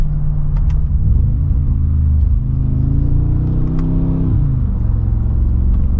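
Mercedes G63 AMG engine revving with throttle rises and falls, heavy low rumble from inside the cabin, with a few faint exhaust pops and crackles on the overrun, no talking.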